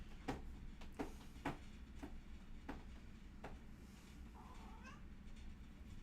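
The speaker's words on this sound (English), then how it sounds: "I heard a little yapping cat." A cat meows in a quiet room, several short separate calls spaced irregularly across the first few seconds, then a higher drawn-out mew near the end, all fairly faint over low background hum.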